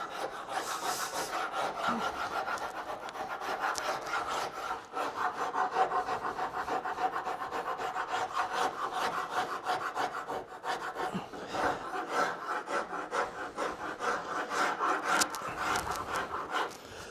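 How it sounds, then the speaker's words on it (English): A Nicholson rasp scrapes along the edge of a small wooden table, rounding it over in steady, continuous rough strokes that stay close and fairly loud throughout. "The Nicholson rasp. round that right over."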